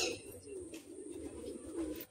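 A single male Giribaz pigeon coos softly up close, a low murmuring call repeated in short throaty phrases with no talk over it.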